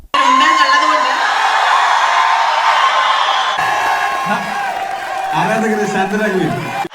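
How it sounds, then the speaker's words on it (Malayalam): Mohanlal's fans cheer and roar as a sustained, dense crowd din with whoops and shouts, loud and continuous throughout, with a speaker's voice rising over it near the end. "മോഹൻലാലിന്റെ പേര് പറയുമ്പോഴൊക്കെ ആരാധകർ ആരവം തുടങ്ങും"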